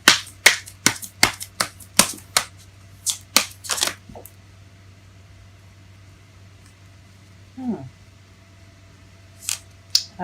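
Tarot cards being shuffled up close, a rapid series of sharp riffling snaps and slaps for about four seconds, then near quiet with a soft brush and a couple of final card taps.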